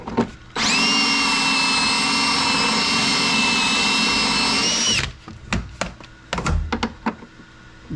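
A power drill bores a hole during a methanol injection install on a C7 Corvette Z06, whining loudly and steadily for about four seconds before stopping, followed by a few sharp knocks and clunks of handling.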